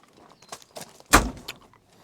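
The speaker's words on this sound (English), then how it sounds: "Braden, go ahead and shut that door." Cab door of a 2016 Bobcat 5600 Toolcat work machine slams shut once, a single loud thud with a brief rattle, surrounded by faint clicks and handling noises.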